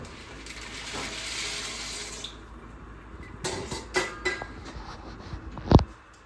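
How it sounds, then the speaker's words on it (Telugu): Pasta added to salted boiling water: a soft, rushing bubble at first, then light splashes and clinks, and one sharp knock near the end, all close by with no speech. "ఇలా మరుగుతున్న వాటర్లోకి పాస్తా యాడ్ చేసేసుకోండి"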